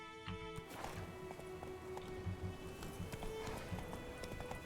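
Roach, a horse in The Witcher game, trots with steady clip-clopping hooves in a quick rhythm, close and continuous over a low ambient bed.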